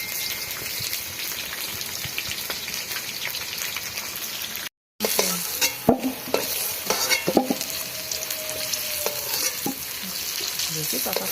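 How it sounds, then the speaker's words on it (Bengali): Potatoes frying in a pan over a wood fire, a steady crackling sizzle with occasional stirring scrapes and clinks, close and fairly loud, with a brief gap partway through. "এই যে আলু ভাজা হয়ে গেছে, তুলে নিচ্ছি।"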